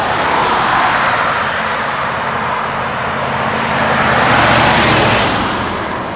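Steady, loud road traffic as cars and trucks pass, a continuous broadband roar that swells gently toward the end, with no voices.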